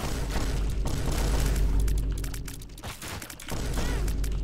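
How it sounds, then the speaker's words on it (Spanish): Explosions in The Binding of Isaac, a game, come as a loud deep booming burst that rumbles for a few seconds, breaks off briefly, then returns with another heavy blast. "Otra explosión más."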